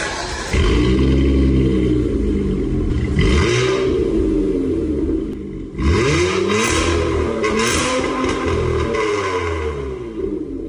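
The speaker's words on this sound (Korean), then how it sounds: "배기음은 우리 차주분께서 영상 보내주셨어요" Deep, loud exhaust note from a tuned Hyundai Grandeur taxi with an aftermarket exhaust, recorded close up, with repeated revs swelling and dropping over a rumbling idle and no talking.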